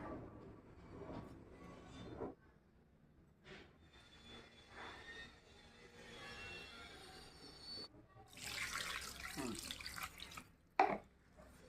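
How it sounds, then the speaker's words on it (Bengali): Small mourala fish are rinsed in water by hand. The splashing and sloshing come in uneven bursts with short gaps and a few louder swishes, heard close in a quiet room. "মাছটা আমি এখন ভালো করে ধুয়ে নেব"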